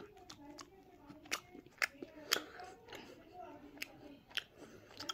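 Biting into and chewing a MrBeast Feastables Deez Nutz peanut butter chocolate bar, close and quiet, a crisp snap followed by a series of soft, irregular crunching chews.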